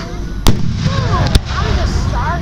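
Fireworks at a Fourth of July show in Newtown: two sharp booming bursts followed by whistling, crackling rockets, with crowd voices chattering underneath.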